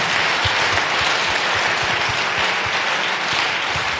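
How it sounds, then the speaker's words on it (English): A church congregation clapping hands for Jesus: a dense, continuous wash of many hands applauding at close range, steady and loud throughout with no voices standing out. "I thought you clap your hand for Jesus."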